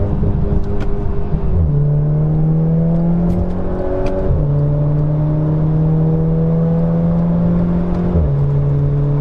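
A tuned VW Golf GTI MK6 with a DSG gearbox, intercooler and aftermarket exhaust accelerates hard on a track, its loud engine note climbing steadily through three rising sweeps, each cut short by a quick upshift, with no talking.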